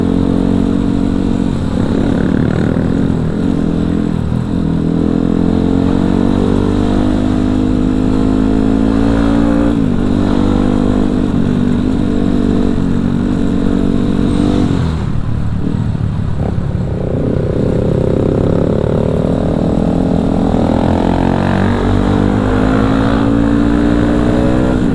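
Congested road traffic of motorcycles and cars idling and revving close by, a continuous loud engine drone with rising throttle swells throughout, no talking.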